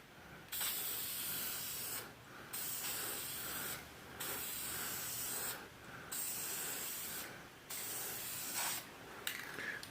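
VHT Nightshade tint sprayed from an aerosol can onto Chevy Silverado taillights in five long, even hissing bursts separated by short pauses, close and fairly quiet.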